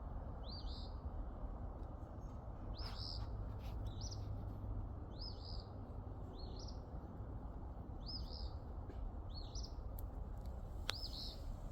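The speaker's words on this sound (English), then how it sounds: "is a bird getting my attention?" Small bird calling outdoors in a garden in November, a faint, regular series of short chirps repeating about once a second over a steady background hiss.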